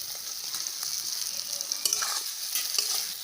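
Potatoes with spices sizzling and frying in a pan while being stirred, a steady soft hiss with occasional scraping stir sounds, close and fairly quiet.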